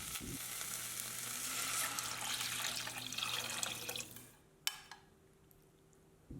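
Water is poured into a hot pot holding Korean hot pepper powder, a loud splashing, sizzling rush that runs for about four seconds, then stops abruptly, followed by a couple of sharp knocks in near silence.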